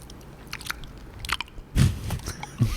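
Someone bites into an ice cream novelty with a close, crisp crunch followed by a few softer chewing crackles, isolated against quiet room tone.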